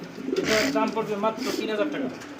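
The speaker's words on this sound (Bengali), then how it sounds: "এটা কবুতর দেখেন এটা জোড়া কবুতর" A pair of pigeons coo close by in low, rolling, repeated calls, while a person talks over them.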